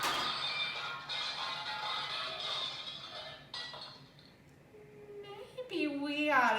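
A drinking glass slid across a counter and smashing: a long scraping rush ends abruptly in a crash, followed by a person speaking.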